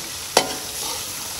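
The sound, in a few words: mixing red chili into cooking food in a pan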